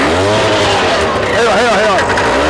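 A homemade racing lawn mower engine revving hard, a loud, close motor whine that rises and wavers in pitch through repeated surges of acceleration.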